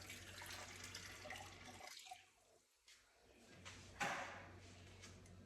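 Warm water runs from a tap, briefly stops, then pours again, splashing softly into a bowl at close range.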